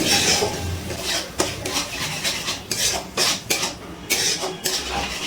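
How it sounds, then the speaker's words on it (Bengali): A spoon scrapes and clinks against a pan while someone stirs a mixed vegetable curry with tomato, yogurt and a little sugar. The stirring comes close and in an irregular rhythm of rubbing strokes and sharp metallic taps. "চিনি দেওয়ার পর একটু নাড়াচাড়া করে নিয়েছি।"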